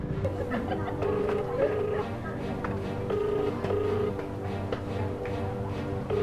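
A telephone dials a dental clinic in the Philippines, with short repeated tonal beeps of ringing on the line over a steady, busy background hum.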